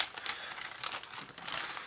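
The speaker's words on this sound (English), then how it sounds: "We come in a nice resealable bag. Let me see if I can get these out." Crinkly plastic resealable bag being handled as model aircraft decals for a 1/32 Nieuport XXIII kit are pulled out, a close, continuous rustle of soft crumpling bursts with no talking.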